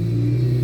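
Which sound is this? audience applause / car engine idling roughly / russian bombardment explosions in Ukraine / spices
car engine idling roughly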